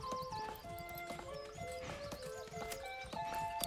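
Horse hooves clip-clop in the medieval city-building game Manor Lords, a steady rhythmic walking beat with a neigh or whinny and tonal game sounds layered over it, moderately quiet.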